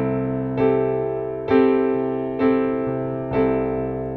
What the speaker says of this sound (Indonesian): Nah, kemudian ada yang namanya C mayor 6.